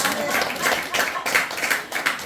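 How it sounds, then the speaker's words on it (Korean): A church congregation claps together in a steady burst of applause, fairly close and continuous, with a faint voice underneath. "박수 한번 쳐요"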